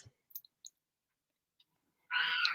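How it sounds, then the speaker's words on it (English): Near silence broken by a few faint clicks, then a single short meow from a cat close by. "sorry if you hear my cat in the background"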